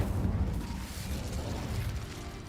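The Incendio fire spell in Hogwarts Legacy erupts as a dense, rumbling whoosh of flame, steady and fairly loud for a couple of seconds with no voice over it.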